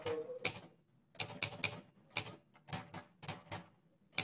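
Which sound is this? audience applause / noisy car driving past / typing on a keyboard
typing on a keyboard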